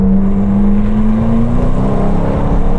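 A McLaren GT grand tourer with a 707 hp twin-turbo engine pulls hard on a narrow road, its engine note rising steadily in pitch as it accelerates, loud and close from inside the cabin.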